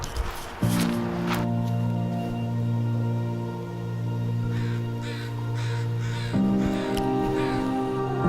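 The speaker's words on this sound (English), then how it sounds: "the crows take over instead of the geese and stuff" Crows caw repeatedly over a steady droning hum of equipment, the calls coming in short bursts at moderate distance rather than close by.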